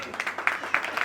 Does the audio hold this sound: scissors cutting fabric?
no